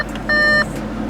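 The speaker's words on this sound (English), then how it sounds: "when you open the doors and it beeps" A single steady electronic beep, about a third of a second long, sounds clearly over the low hum of an Audi interior: the open-door warning as the doors are opened.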